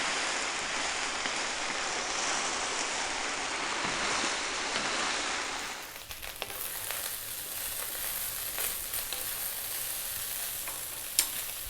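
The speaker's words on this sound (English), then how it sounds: "And then we're going to fry this rice for 5 minutes." Mushroom fried rice fries over high heat while a spatula stirs and scrapes it around the pan. A loud, dense sizzle softens about halfway through, leaving quieter crackling and occasional scrapes.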